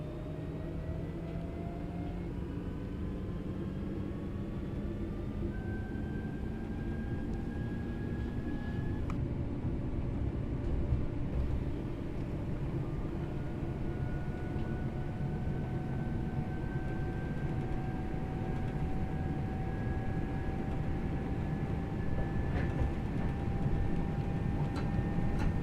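Train accelerating on the Glossop line between Manchester and Hadfield in Train Sim World, a continuous rumbling drone with slowly rising motor tones and faint ticking, steady and unbroken throughout.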